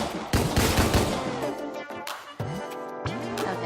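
Gunfire in the video game Deadbolt, a loud, dense volley of rapid overlapping shots with several sharp reports, close and alone without talk.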